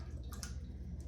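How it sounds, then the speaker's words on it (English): Canned pear juice poured from the tin, a soft trickling splash with a few faint drips, quiet and close, lasting about a second with no talk. "So we're gonna pour"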